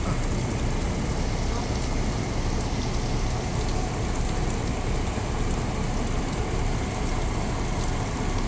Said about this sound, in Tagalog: lakas ng ulan. Pa-side pa.